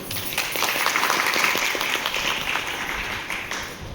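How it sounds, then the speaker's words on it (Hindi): A seated audience at a mental health talk claps loudly for themselves, a dense burst of many hands that holds steady for a few seconds and then begins to thin. "तो उस अमूल्य समय के लिए आप एक बार जोरदार ताली आप अपने लिए खुद बजाइए।"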